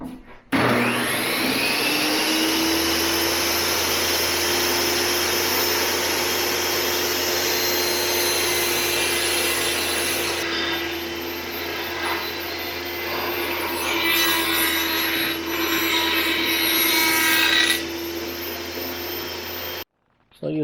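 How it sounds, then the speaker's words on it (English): A power saw cuts a half-inch-deep groove along the top of a wooden shelf divider, a loud sustained whining motor drone that holds for most of the time, shifting in tone partway through before stopping abruptly. "So I'm going to cut these now."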